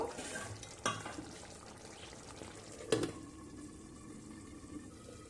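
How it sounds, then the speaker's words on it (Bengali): Fried rohu fish pieces simmer in a curry with potatoes, a soft bubbling and faint sizzle close by, broken twice by sharp utensil knocks against the pan. "এবার এর মধ্যে ভেজে রাখা মাছগুলো দিয়ে আবারও তিন থেকে চার মিনিট সেদ্ধ করে নেব"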